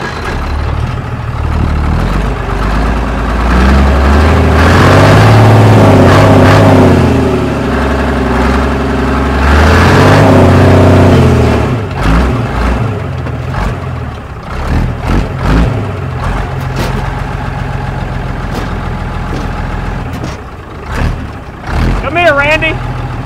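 A 1950s Mack truck engine runs loud and close, swelling in two long revving surges before settling into a rougher idle, with voices talking over it and a brief squeal near the end.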